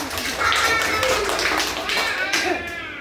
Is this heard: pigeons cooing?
no